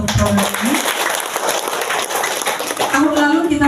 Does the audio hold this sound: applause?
yes